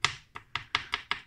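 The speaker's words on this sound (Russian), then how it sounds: "нарезаем мелко зубчик чеснока" A knife chops a garlic clove finely on a board, six sharp, evenly spaced cuts in quick rhythm, close and clear with no talking.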